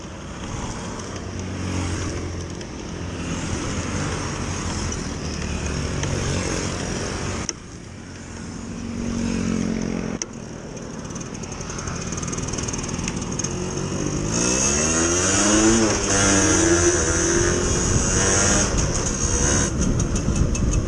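A Suzuki RC100 motorcycle with a Swing exhaust runs steadily, its engine droning loud and close, then revving up in rising sweeps toward the end; the engine may have a fault.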